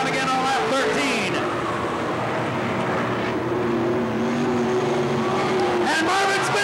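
Sprint cars racing in a main event at Riverside Speedway roar loudly and continuously, their engines droning and shifting pitch as they come around the track, beneath an announcer calling the race.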